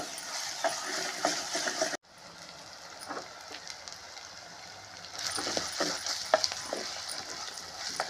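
Ginger-garlic paste frying with onions in a pan for a mutton and raw mango curry, giving a steady close sizzle with scattered stirring scrapes, briefly dropping quieter at about two seconds before rising again.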